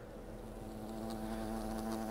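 Big wasps buzzing in the video game Fable: The Lost Chapters, a steady, droning hum that grows slightly louder, with no one talking.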